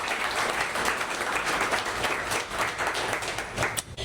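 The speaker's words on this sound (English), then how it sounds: "So I do want to give you a round of applause." An audience at a healthcare panel discussion gives the panelists a sustained round of applause, even and moderately distant, tapering off at the close.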